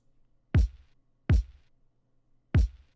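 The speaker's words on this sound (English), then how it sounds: "Just about as simple as it gets for a kick." A simple boom bap kick drum pattern: three deep, punchy kicks, evenly but sparsely spaced, loud and dry with nothing else playing.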